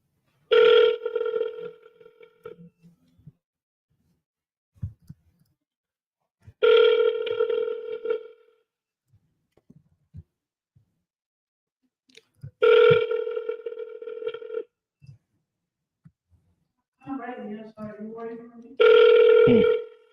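Outgoing phone call ringing back four times in slow, evenly spaced bursts about six seconds apart, each a steady electronic ring with long silent gaps, ending unanswered.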